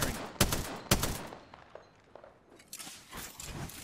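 Gunfire in the video game Apex Legends: two sharp, loud shots close together, then a softer scatter of quick pops and crunches further back.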